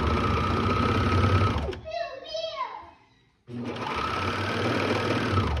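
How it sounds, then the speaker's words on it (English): A sewing machine stitches over a seam on a romper, running loud and steady, pausing briefly while someone speaks, then starting again at full speed. "And then I do sew over that seam one a little bit."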